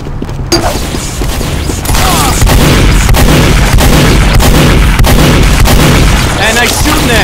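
Gunfire in the Team Fortress 2 video game, a loud, dense barrage of shots and blasts layered over constant game noise, with battle sounds running continuously after a brief quieter opening.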